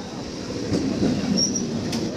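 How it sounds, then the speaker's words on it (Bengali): A train pulls into Sealdah station, its steady low rumble of wheels and carriages close by, with a faint high squeal from the wheels partway through. "তো ট্রেন এখন চলে এসছে শিয়ালদা স্টেশনে"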